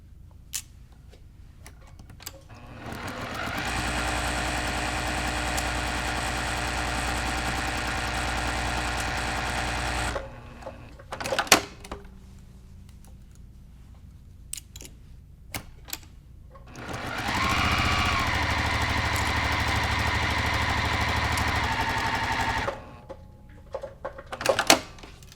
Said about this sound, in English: we're going to go to the sewing machine and we're going to stitch a 1/4 inch seam on both sides